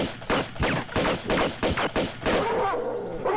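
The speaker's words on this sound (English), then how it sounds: "Oh, why was he shooting at me?" Enemy gunfire in the video game Tomb Raider 2 rings out as a rapid run of about eight loud, evenly spaced shots, followed by a lower rumbling tail.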